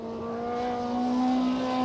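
A Volkswagen Golf engine in a Formula 2 race car revs steadily at Eastern Creek during a 1991 Australian Drivers Championship race, its high pitch rising slightly as it climbs, loud and continuous.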